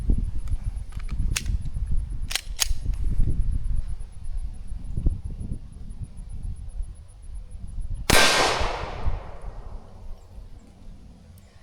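Several sharp rifle shots of Federal Premium solid core 147 grain rounds fired at steel outdoors, a few quick cracks early on then one loud report with a long ringing tail, in light wind.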